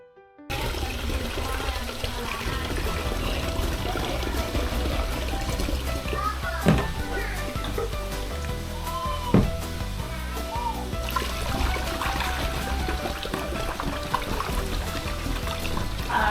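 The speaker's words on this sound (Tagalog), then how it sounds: "Dagdagan na natin ng tubig." Water pours and splashes continuously into a container while mixing a homemade probiotic batch for ducks, a full, steady gushing that runs nearly the whole time.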